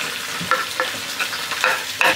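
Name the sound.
meat frying in a pan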